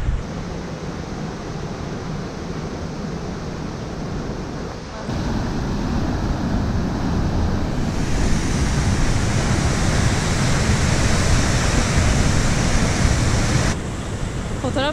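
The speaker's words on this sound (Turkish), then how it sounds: "Falls, Christine Şelalesi." Christine Falls, a waterfall in a US national park, roars as a steady broadband rush of falling water, loud and continuous, swelling stronger partway through, with no talk over it.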